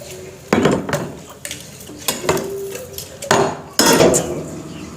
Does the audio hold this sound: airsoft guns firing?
no